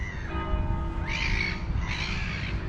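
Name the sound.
birds chirping outdoors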